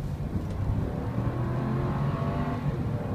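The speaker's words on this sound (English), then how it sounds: "I'm just gonna give it a full throttle run right here." Inside a Lexus LS 400 under full throttle, a steady low engine drone builds with road and wind noise as the car accelerates, with no talking.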